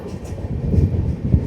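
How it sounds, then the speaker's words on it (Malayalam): A KSR Bengaluru–Kozhikode Express train nears Payyanur station, giving a steady, close, low rumble of wheels and carriages that runs throughout with a few heavier thumps. "നമ്മളെ ട്രെയിൻ ഇതാ അടുത്ത സ്റ്റേഷൻ പയ്യന്നൂരോട്ട് കയറാണ്"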